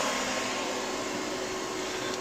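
Steady broadband whir of the cooling fan in an APC XS 1300 UPS, running continuously close to the mic with a faint tonal hum beneath and a second fan blending in.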